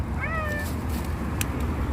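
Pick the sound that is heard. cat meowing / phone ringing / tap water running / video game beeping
cat meowing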